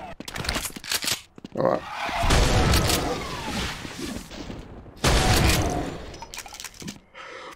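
Shotgun blasts from a modded Doom video game, several loud booming shots in bursts amid other game effects, with someone talking briefly over the action.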